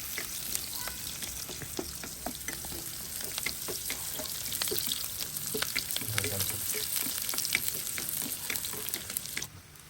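Carrots, cabbage and onions fry in a pan, giving a faint, steady sizzle broken by repeated scraping and clacking strokes of a utensil as the vegetables are stirred.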